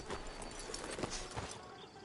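Horse hooves clip-clop on the ground in Red Dead Redemption 2, a quiet, fairly quick run of uneven footfalls with faint ambient noise beneath them.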